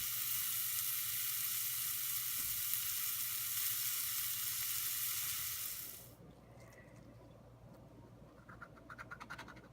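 Homemade pork sausage fries in a pan, a loud, even sizzle that runs for about six seconds, then drops to a quiet crackle with light scraping near the end.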